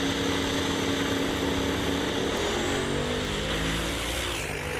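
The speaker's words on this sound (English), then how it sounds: "Nice and easy off the line with the dart" Dodge Dart drag car launching off the line at a street drag racing event, a loud, sustained engine roar close by with rising harmonic tones as it pulls away, continuous throughout.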